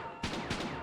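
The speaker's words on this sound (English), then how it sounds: "Gunshots! It sounds like someone's in trouble." Gunshots in a video game: two quick muffled bursts of gunfire in under a second, moderately loud over a steady background hum.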